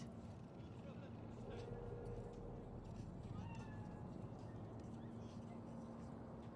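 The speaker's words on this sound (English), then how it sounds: "Fine-looking feline" A cat meows in the street in Cyberpunk 2077's Night City: a few faint, thin mewing calls rise above a steady hum of city ambience, with a voice speaking nearby.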